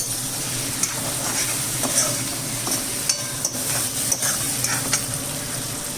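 Peas sizzle and fry in hot oil in a pan, a steady close crackle with occasional stirring scrapes and light utensil clinks, no voices.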